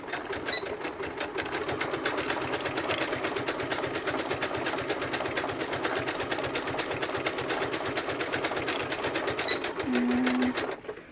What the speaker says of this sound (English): and then we're going to back stitch.